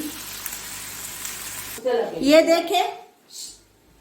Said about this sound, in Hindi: जब प्याज का कलर भी चेंज हो जाए, गोल्डन हो जाए